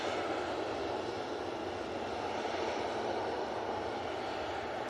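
An ATR turboprop airliner comes in to land at Manchester Airport, its engines giving a steady, moderately distant broadband drone with no talk over it.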